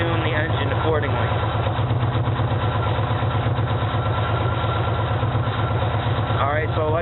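A 2004 Yamaha Warrior ATV engine idles steadily with a continuous, even mechanical chug throughout, running close and fairly loud while someone talks over it.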